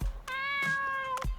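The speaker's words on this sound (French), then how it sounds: "Miaou miaou" A single clear cat meow from the video game Dave the Diver, rising and falling over about a second, close and alone with no talking.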